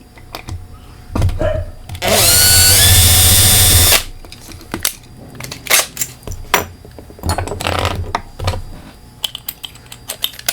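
A small power drill bores into the riveted base of a Hot Wheels die-cast car for a wheel swap, with one loud, steady two-second whine, followed by scattered clicks, taps and handling noises at close range.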